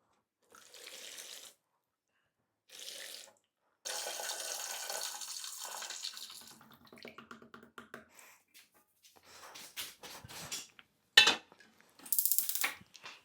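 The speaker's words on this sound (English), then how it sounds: "pour everything inside here and collect only the liquid part" Homemade honey ale beer mash poured through a colander into a pot, heard in separate bursts of splashing, gurgling liquid. Quieter clinks and dripping come between the pours, close by in a quiet kitchen.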